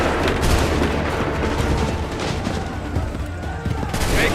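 Continuous crackle of musket volleys and battle gunfire at Bunker Hill in the video game Assassin's Creed III, loud and dense throughout with overlapping shots and no clear gaps.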